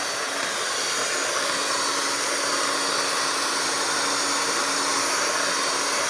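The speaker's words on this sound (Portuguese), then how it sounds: "Eu vou usar essa daqui, minha batedeirinha simples" A small, simple electric hand mixer whips instant coffee into a creamy foam, giving a steady, loud, continuous whirring hiss that holds unbroken throughout.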